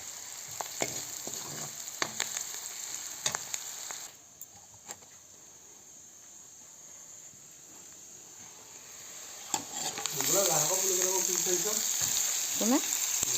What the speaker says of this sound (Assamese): তেলত পিঁয়াজ ভাজি আছোঁ